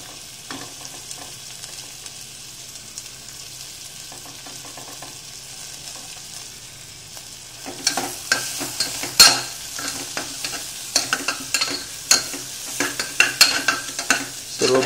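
Capsicum and cabbage sautéing in a hot pan for masale bhat, a soft low sizzle at first that turns louder and busier halfway through, with scraping stirs and crackling bursts, no voices.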